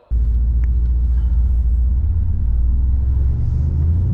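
A Korean-spec Mercedes C63 AMG engine at the Nürburgring starts up and settles into a loud, steady low rumble that fills the whole clip without pause.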